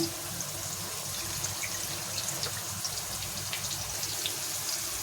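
Water pours into a bowl set on a gas stove as a faint, steady trickle close by, with light clinks and no talking.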